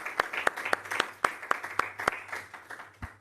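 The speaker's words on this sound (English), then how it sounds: "I see clap from many people here" Scattered applause from a modest audience at a scientific symposium, with distinct individual claps landing in a loose, fairly regular rhythm and fading toward the end, moderately quiet.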